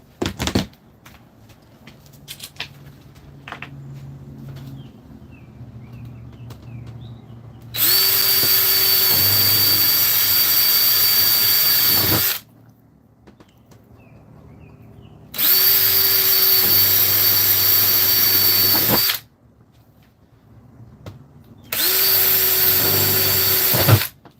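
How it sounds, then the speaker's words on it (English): Three bursts of a power drill whirring steadily while drilling holes in an Airstream trailer endcap, each lasting a few seconds with short quiet gaps between, close and loud. "When I'm drilling these holes"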